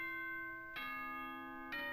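A clear two-tone announcement chime from the video game Danganronpa: Trigger Happy Havoc rings out, a ding-dong with a third tone starting at the end, bright and sustained with no talking.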